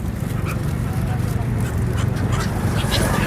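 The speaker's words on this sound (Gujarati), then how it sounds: "આ છે સૂર્યપુત્રી તાપી નદી અને આ છે સાઇબેરિયન પક્ષીઓ" A flock of Siberian migratory birds at the Tapi river gives a few brief, scattered calls. The calls sit faintly over a loud, constant outdoor rumble and crowd-like murmur.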